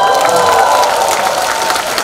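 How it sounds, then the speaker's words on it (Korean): Audience at a party members' talk concert claps, a steady dense wash of applause mixed with crowd voices, close and loud throughout. "여러분 마음이 너그러우셔서 박수를 쳐주셨지만"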